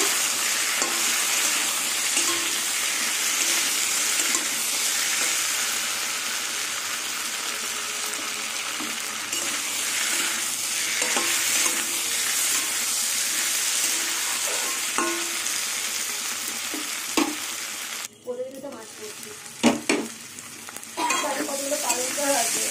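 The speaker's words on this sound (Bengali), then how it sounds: "এবার সব কিছু দিয়ে ভালো করে আবার কষিয়ে নেব।" Spiced taro sautéing and being stirred in a hot pan, a dense, continuous sizzle with spatula scrapes and knocks that grow choppier near the end, close and loud with no voices.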